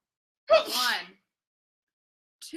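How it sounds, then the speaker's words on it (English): A single sharp sneeze from a young girl breaks a quiet room, followed by silence and a brief faint sound at the end. "I have to sneeze."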